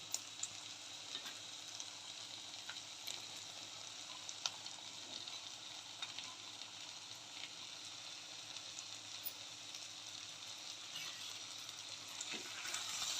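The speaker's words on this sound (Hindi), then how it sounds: "अब मैं इसमें काजू डालूंगी" Cashews frying in oil with roasted masala in a pan, a steady close sizzle with crackling pops that runs unbroken throughout and grows slightly louder toward the end, with no voices.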